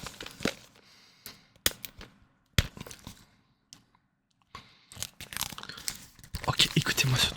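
Smartwatch packaging being torn open during an unboxing, with close, sharp rips and crinkles in short separate bursts that grow busier and more continuous toward the end.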